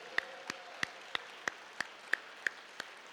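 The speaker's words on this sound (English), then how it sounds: "please give these amazing students one more round of applause" Applause for students at an ocean exploration open house, heard as a sparse, evenly spaced series of about ten distinct claps, fairly faint and with no talk over them.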